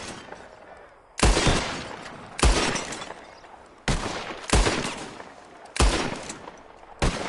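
Repeated gunfire in the video game Red Dead Redemption 2: five or six loud, sharp volleys at roughly regular intervals, each ending in a long reverberant tail, with no talk over them.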